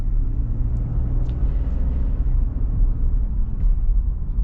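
A 2024 pickup truck, either a Ford F-150 with a 2.7L V6 or a Chevy Silverado TurboMax, gives a low engine rumble that builds steadily as it accelerates, heard from inside with no talk.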